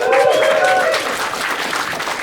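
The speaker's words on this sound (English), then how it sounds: "Can you please give him a round of applause?" A live podcast show audience in a packed venue applauds a guest, loud crowd clapping and cheering blended with voices, strongest at the start then settling slightly.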